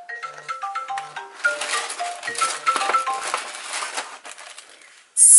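A mobile phone rings with a melodic ringtone of bright chiming notes that repeat in a tinkling pattern for several seconds, then stop abruptly into a short burst of noise.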